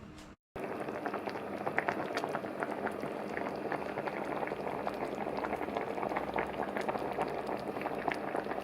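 Beef tongue simmers in a pot with a continuous bubbling, gurgling boil, close and even, after a brief silent gap at the start.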